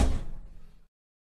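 A single door swinging shut with a short thud at once, then a brief fading creak and rattle before silence, heard alone at close range in a late-night horror setting.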